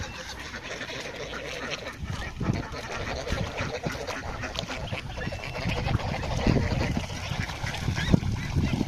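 A flock of ducks at a well-known duck-selling spot quack and honk continuously in a busy, overlapping chorus, fairly close, with outdoor bustle around them.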